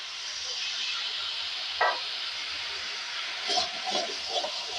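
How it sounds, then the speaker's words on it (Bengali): Water poured onto fried spice paste in a hot pan sets off a steady, even hiss of steam, with a few brief bubbling spurts and soft clatters near the end, close and moderately quiet. "এবার মশলাটা আমার কষানো হয়ে গেছে, হালকা একটু জল দেবো"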